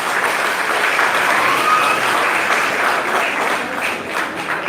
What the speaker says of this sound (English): I want you to give her another big round of applause.